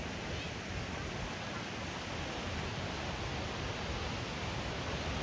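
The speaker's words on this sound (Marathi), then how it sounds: "3 स्टेप धबधबा आहे ऑलमोस्ट" A three-step monsoon waterfall at Mormarewadi near Kamshet, Pune, gives off a steady, even roar of rushing water that fills the whole stretch without a break.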